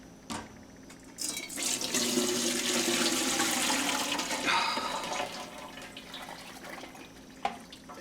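Homemade broth made from kitchen scraps pours steadily into a measuring cup, a continuous splashing gush lasting several seconds and then tapering to trickles and a final clink.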